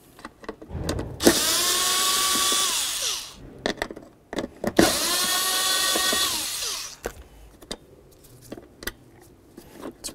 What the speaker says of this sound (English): Now let's continue on to removing our two mounting bolts here.